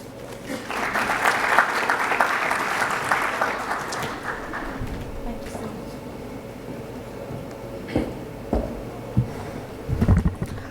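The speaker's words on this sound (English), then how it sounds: "A round of applause once again to express our gratitude to ma'am." An audience at a galvanizing industry conference bursts into loud, dense applause after a talk. The clapping fades after about four seconds, and a few scattered claps and sounds follow.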